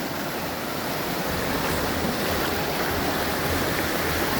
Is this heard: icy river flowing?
yes